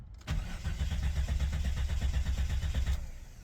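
A 1997 Jeep Cherokee XJ engine cranks on the starter with its fuel pump off. The close, loud, steady rhythmic chugging runs for about three seconds and stops without the engine firing.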